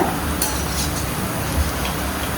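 Urad dal medu vada frying in hot oil, a steady dense sizzle and bubbling that runs without pause, with faint clinks of a utensil against the pan near the start.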